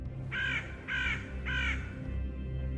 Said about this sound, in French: Au loin, le cri d'un corbeau déchire le calme ambiant.